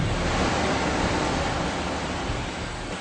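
Powerful pumps at Heineken's on-site water treatment plant, drawing water at 450,000 litres an hour, give off a loud, steady, unbroken roar of dense rushing noise with no pauses.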